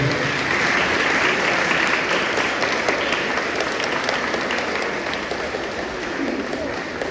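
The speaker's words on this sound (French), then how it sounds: "Petit applaudissement pour nous." A crowd applauds at the centenary celebration of the École Léonce Mégie school, a thick and sustained wash of clapping from many hands that stays loud and even for the whole stretch, dipping only slightly near the end.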